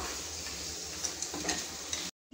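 Tomato being stirred into a simmering mutton curry in a pot gives a steady soft sizzle with a few light scraping ticks, ending abruptly in silence.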